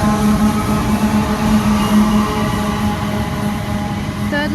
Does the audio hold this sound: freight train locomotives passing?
yes